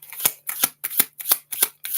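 Tarot cards are shuffled by hand in six quick, crisp riffling bursts at an even rhythm, each with a short pause between. The sound is close and clear with a quiet background, and no one speaks.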